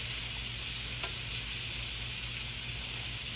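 Chicken wings fry in a hot skillet for old-school fried chicken, giving a steady, dense sizzle with a couple of faint clicks as they are moved around, no voices.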